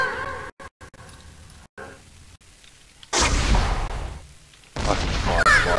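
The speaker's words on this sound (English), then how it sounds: "I can fire fireballs." Bursts of booming fireball shots from a ghast in Minecraft, two loud blasts following a stretch of quieter clicking game sounds, with no talking.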